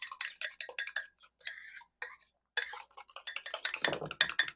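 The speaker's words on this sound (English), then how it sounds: "So now I'm going to mix those wet ingredients together" Wet ingredients with maple syrup are stirred together in a mug, a spoon clinking and scraping against the sides in quick, uneven bursts with brief pauses.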